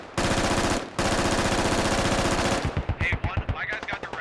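Rapid automatic gunfire from a heavy machine gun in the military shooter game Squad, loud and close, in long sustained bursts with a short pause, then tapering into scattered shots under faint voices.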